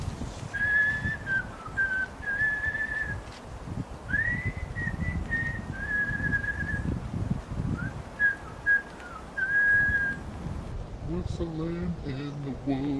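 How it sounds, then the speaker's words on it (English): A person whistles a wandering tune in quiet woodland at a hammock wild camp, clear repeated phrases with short pauses, and speech briefly follows near the end. "Whistling in the woods"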